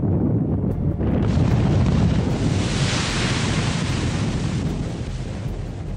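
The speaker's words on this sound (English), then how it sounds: "As with many quarries, the process here starts with a blast." A slate quarry blast rolls out as a long, loud broadband roar, a sudden onset followed by sustained rumbling wash that slowly eases over several seconds, heard from a distance with no voices.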